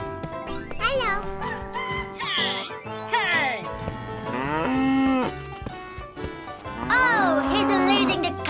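Cartoon cows mooing on a farm, several drawn-out, pitch-bending moos in turn alongside bright jingling tones and a voice speaking.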